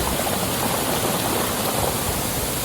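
Water cascades at Anayadikuth waterfall, a dense, unbroken roar of splashing and rushing water heard up close and fairly loud throughout, with no voices.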